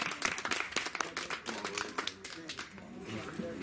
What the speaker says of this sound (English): You deserve a better round of applause.